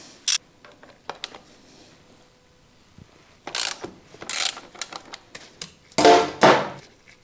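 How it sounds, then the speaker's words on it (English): A ratchet with a 22mm socket undoes the axle end bolt on a Honda CB1300 motorcycle during a fork oil change. Sharp, close pawl clicks come in scattered runs and grow into louder, denser bursts toward the end. "Right, 22mm socket. Now we remove the bolt that's screwed into the end of the axle."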